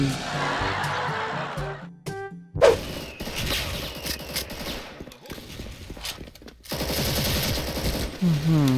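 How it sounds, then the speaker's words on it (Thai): An MX-4 rifle fires in Special Force while shooting enemies, with rapid automatic bursts and single cracks spread across the stretch, loud and close, with gaps between volleys. "ท่านผู้ชมยิงศัตรูหายอย่างไวเลยครับ"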